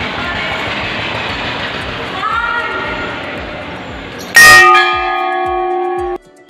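A large temple bell at Shri Jagdish Hindu temple in Kamri, Nadoti, Karauli district, strikes loudly once and rings on with a long sustained hum, following a stretch of background noise.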